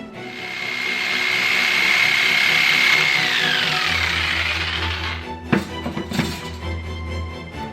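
A power tool whines steadily while cutting a strip of oak 3/4 inch thick and 1.5 inches wide, its pitch sagging as the blade loads up, then it winds down into a few clattering knocks and handling sounds.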